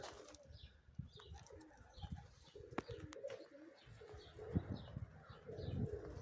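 Budapest pigeons flutter and coo close by in a loft, with soft intermittent wing flaps and low cooing calls under light background noise.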